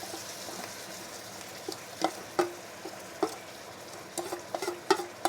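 Marinated curry meat fries in hot oil: a faint, steady sizzle runs throughout, with sharp crackles and pops in irregular bursts that grow busier toward the end.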